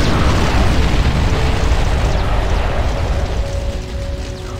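A loud, rumbling explosion as an enemy unit is destroyed in the real-time strategy game Ground Control, a dense blast of noise that slowly decays over a few seconds with no talk.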